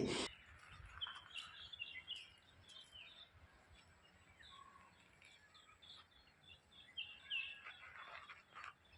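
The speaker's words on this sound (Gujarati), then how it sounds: "ફક્ત આ પક્ષીઓનો અવાજ સાંભળવાની કંઈક અલગ જ મજા આવે છે" Birds at an aviary bird park in Daman, India give scattered high chirps and calls, some close and some farther off, over a steady outdoor background hiss.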